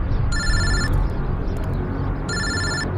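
A telephone rings with an unknown number calling, two bursts of an electronic trilling ring over a dense background rumble, close and loud.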